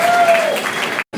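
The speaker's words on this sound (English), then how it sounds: "a round of applause" An audience at a sleep medicine conference tribute applauds in a brief, dense burst of clapping that cuts off abruptly, followed by a moment of renewed clapping.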